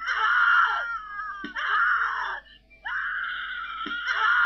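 A person screams in the horror video game The Cat Lady, three long anguished wails separated by short breaths, loud and close.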